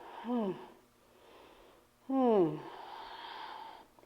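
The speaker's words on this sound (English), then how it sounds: "Breathing." Breathing during a yoga flow: two audible, slightly voiced breaths, a brief one and then a longer, louder exhale-like sigh, close and alone in a quiet room.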